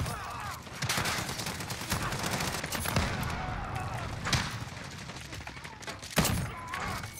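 Call of Duty shotgun blasts with Dragon's Breath incendiary rounds boom out several times at uneven intervals, each a loud close thump over steady game noise.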